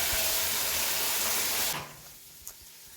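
Tomatoes frying in a pan give a loud, steady sizzling hiss for nearly two seconds, then it drops off sharply to a faint background murmur with one small tap.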